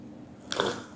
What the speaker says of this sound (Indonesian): kita seruput dulu kopinya.